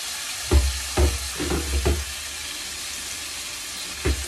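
Chicken pieces sauté in a hot pan after garlic, steady sizzle broken by several sharp stirring scrapes and bursts of spatter, close and alone with no talking.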